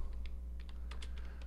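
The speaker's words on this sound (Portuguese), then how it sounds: "você vai digitar a palavra-chave aqui" A computer keyboard is typed on in a quick irregular burst of keystroke clicks, close up and clear over a low steady hum, with no speech.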